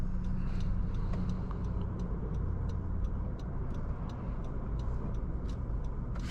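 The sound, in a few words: 2019 Honda Civic Sport car accelerating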